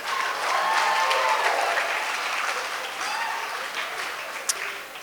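Guests at a wedding reception break into lively applause, with dense clapping and a few whoops that gradually thin and soften, plus one sharp clap near the end.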